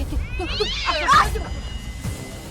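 A cat meows in a house, with a few rising and falling calls close by over a low background murmur.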